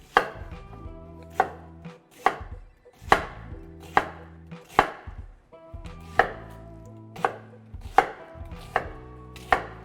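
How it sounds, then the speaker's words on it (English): An onion is cut into fairly large pieces with a knife on a cutting board, producing about a dozen crisp, evenly spaced chops up close with no talking. "And then I'm going to fairly large cut my onion."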